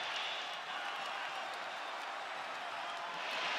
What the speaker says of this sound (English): A standing ovation from the capacity crowd in Perth